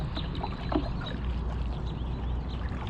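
A kayak paddle makes a draw stroke through the water, with soft swishing and gurgling close by over a steady outdoor background, with no talk.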